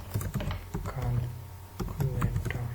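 Close, crisp keystrokes on a computer keyboard while HTML code with an H1 tag is written, coming in quick uneven runs with short pauses between them.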